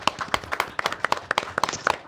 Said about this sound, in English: please some applause for my lovely speakers